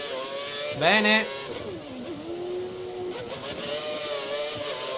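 An F1 car engine at full power in the F1 2013 racing game at Yas Marina, a loud high revving whine that climbs through gear shifts and sustains steadily, with a voice speaking briefly over it.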